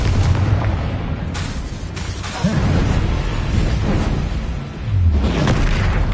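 Confringo blasting spell going off in the game Hogwarts Legacy: a sustained, loud rumbling barrage of booms and bursts with rushing whooshes, dense low-end impacts swelling again near the end, no voices.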